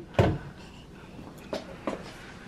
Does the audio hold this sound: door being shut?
yes